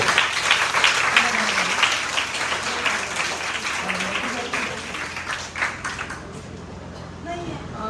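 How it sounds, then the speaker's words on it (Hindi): An audience at an Independence Day celebration claps loudly and continuously, the dense applause gradually thinning toward the end, with some voices and a speaker heard over and after it. "एक बार सर के लिए जोर से तालियां बजाइए।"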